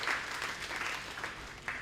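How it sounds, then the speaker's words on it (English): A school debate audience claps for the sponsors, a brief burst of many hands heard at a moderate distance, fairly soft and steady with a few sharper claps near the end. "So a round of applause for all our sponsors."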